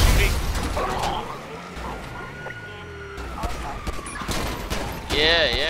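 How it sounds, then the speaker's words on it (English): Gunfire in the video game GTA 5 during a police chase: scattered bursts of shots over a busy wash of game noise, with voices talking throughout. "I'm shooting."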